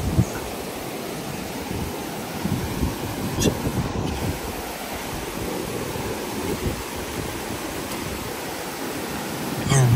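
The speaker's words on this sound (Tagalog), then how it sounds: "Lamang yung ang lakas ng tunog ng agos ng tubig" Loud, steady rushing of river water beside a campsite in Quezon, a continuous broadband roar filling the whole stretch, with a faint voice briefly heard.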